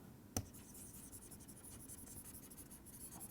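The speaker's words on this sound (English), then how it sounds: "Let me write this in a new page" Pen writing on a page during a physics lecture on spinors, faint close scratching strokes after a single soft tap, quiet and continuous.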